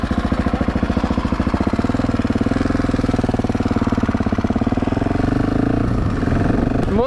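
A detuned, power-restricted motorcycle engine idles close by, a steady low rumble with rapid regular pulsing, slightly shifting near the end.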